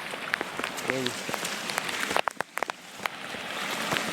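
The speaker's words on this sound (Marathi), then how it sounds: "आज खूप मुसळधार पाऊस आहे" Heavy monsoon rain pours over flooded farm fields in a village, a dense steady hiss with scattered sharper drips and splashes nearby, and a voice briefly cutting through.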